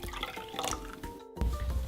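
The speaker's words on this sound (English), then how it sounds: "Add water." Water poured into a mixing bowl of crepe batter ingredients, a brief splashing trickle and gurgle up close, with a short burst of liquid near the end, no talking.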